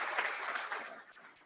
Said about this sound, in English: please join me in giving all of our judges a round of applause